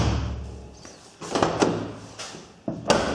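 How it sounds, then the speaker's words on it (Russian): Door of a Daewoo Matiz being opened and closed during reassembly, with a lock and handle just fitted: a few separate close clunks and thuds spread over three seconds, each with a short metallic rattle, fairly near and loud. "Дверька немножко как бы при открывании подпрыгивает."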